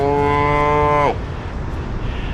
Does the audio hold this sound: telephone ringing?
no